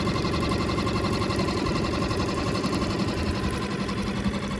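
A Suzuki 6hp outboard motor runs steadily on an external fuel tank, a dense, continuous buzzing drone close by with an even, rapid pulse and no break throughout.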